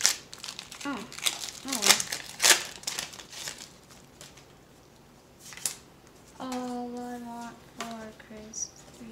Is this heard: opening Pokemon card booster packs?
yes